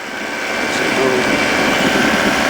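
A Sub70 flexwing microlight's engine drones steadily in flight, a loud continuous buzz mixed with wind rush that fills the whole stretch.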